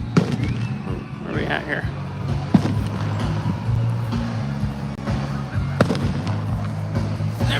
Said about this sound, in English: is that the fireworks already?